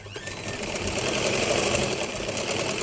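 A sewing machine stitches a fabric hand pouch, running in one continuous, even whir with a rapid mechanical needle rhythm. The sound is close and steady from start to finish.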